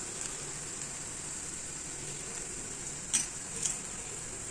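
Adai dosa frying on a pan over a slow flame with oil poured around it, a faint steady sizzling hiss broken by two brief clinks.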